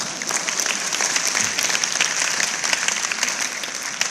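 Church congregation applauding during a sermon, a dense, steady burst of clapping from a large crowd that holds at an even level throughout.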